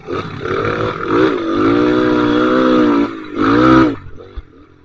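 A motorcycle engine, restarted after stalling from water getting in during a trail-riding event, runs steadily and loud, with a brief revving surge near the end before it settles down.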